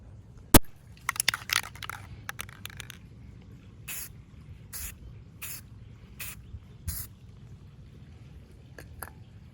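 A spray paint can rattles, then puts out several short hissing bursts of paint onto a truck door handle on a 2007 Ford Ranger Sport, evenly spaced and close by, with a few faint clicks and knocks between them.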